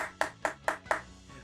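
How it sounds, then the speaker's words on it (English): Four sharp hand claps in an even rhythm, close and fairly quiet, each a crisp slap with a short decay, followed by a faint fifth tap. "Round of applause."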